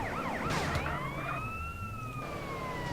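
A police siren wails and yelps in GTA San Andreas, rising and falling sweeps over a low engine hum, moderately close and steady throughout.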